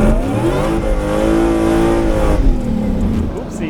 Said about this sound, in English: You can really hear the supercharger with the windows closed.